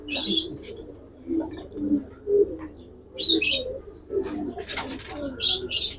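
Giribaz pigeon squabs at a loft give soft, low cooing phrases broken by sharp, high chirping bursts, a few close calls spaced irregularly with no talking.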